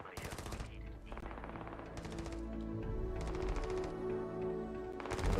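Rapid bursts of automatic blaster fire from enemies in Starfield with Star Wars mods, loud repeated volleys with short gaps, continuous and intensifying toward the end, game sound effects.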